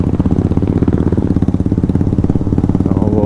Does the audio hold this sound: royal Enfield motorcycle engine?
yes